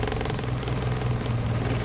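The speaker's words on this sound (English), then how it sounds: "Still idling kind of low" Turbo Datsun 510 idling low and slightly rough, a steady close throbbing engine note with a pulsing low rumble, heard alone without talk.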